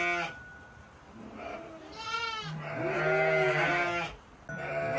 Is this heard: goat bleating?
yes